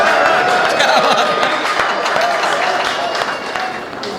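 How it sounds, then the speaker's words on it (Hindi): Audience applause at a Hindi comedy poetry gathering, a dense, steady wash of clapping that runs the whole time and fades slightly toward the end, with crowd noise mixed in. "तालियां बजाओ तो मन से बजाओ जाए।"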